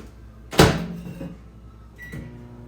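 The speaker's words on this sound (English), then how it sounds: "I've got some broth I'm going to microwave and put in." A kitchen microwave oven heating broth: a loud clunk of the door closing, then a low steady hum of the running oven with another click and a faint beep partway through, no talking.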